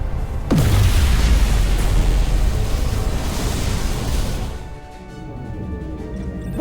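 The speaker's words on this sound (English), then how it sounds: "Dilithium explosion!" A dilithium crystal explosion in the Star Trek Resurgence video game erupts as a loud, deep booming blast with a rumbling roar that sustains for several seconds before tapering into a quieter hum, no voices.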